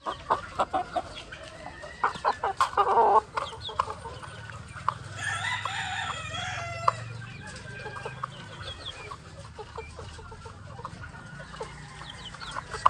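Young roosters (stags) being fed a mixed fermented grain feed, with clucking and a crow nearby among scattered pecking and rustling sounds, no talking.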